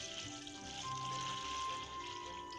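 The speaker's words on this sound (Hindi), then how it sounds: "अब हम दूसरा पानी डालेंगे इसके अंदर और छोले डालेंगे।" Water pours into a pot of black chickpeas for cooking, a steady, soft splashing stream that runs continuously and close by, quiet and with no talk over it.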